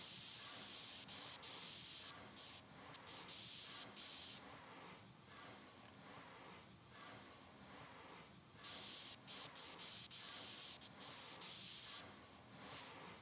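Spray paint hisses steadily onto a PC case in PC Building Simulator 2, long loud bursts broken by short pauses, with no talking.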